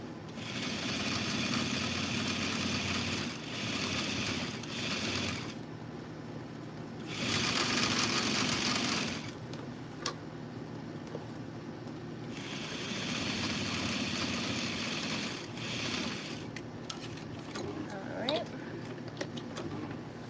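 A sewing machine stitches leather from the inside in several bursts of steady whirring separated by short pauses, close by, with a voice talking over parts of it.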